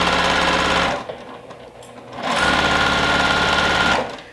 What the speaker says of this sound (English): This machine has much smaller bobbins than what I use on my industrial